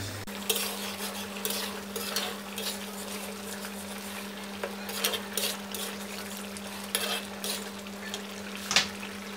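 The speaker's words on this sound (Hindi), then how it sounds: "अब इसको भूनते रहेंगे, जैसे इसकी ग्रेवी थोड़ी सी और गाढ़ी हो जाएगी" Beef black pepper karahi gravy stirred and fried in a pot, with a low steady sizzle under repeated scraping and clinking strokes of a spoon against metal, close and continuous, no talking.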